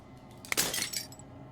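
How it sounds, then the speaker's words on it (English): Glass shatters in the video game Slay the Princess, a sharp crack followed by a bright burst of breaking, tinkling fragments that scatter and fade over about a second, loud and close with no voices. "As the final fragment of glass shatters"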